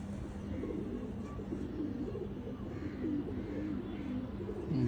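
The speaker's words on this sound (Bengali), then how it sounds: "একটা ওল্ড ভার্সন, একদম পুরনো লাইনের একটা কবুতর" An old-line brown-necked pigeon coos softly and low, a faint continuous murmur of calls with no talk over it.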